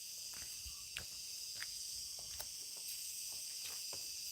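Insect chirps, cicada or cricket, sound in short repeated bursts through a steady high hiss, at middling distance and without any voices.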